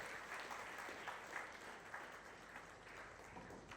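A hall audience at a school award ceremony applauds the chairman with sustained, dense clapping that stays even and fairly distant throughout.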